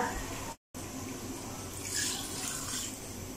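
Water pours steadily into a pot of chicken haleem, about four cups, a continuous close splashing flow with a brief break near the start.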